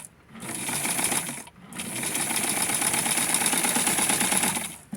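A sewing machine stitching lace for doll panties runs in a steady rapid whirring clatter, stopping briefly after the first second and then running on continuously, close and clear with no talk.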